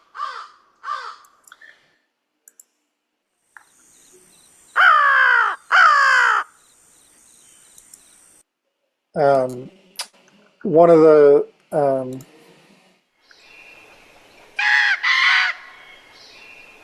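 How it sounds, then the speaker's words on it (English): Crows give a series of loud, throaty caws in pairs and short bursts, separated by quiet gaps, with a brief bit of speech early on. "These are crow sounds again. This one sounds a little bit more throaty,"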